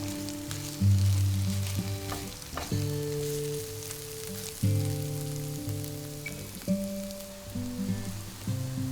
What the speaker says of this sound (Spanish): Incorporamos el ajo molido y continuamos sofriendo durante 2 minutos más.